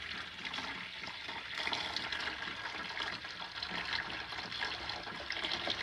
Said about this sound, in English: fill up a little pan with some water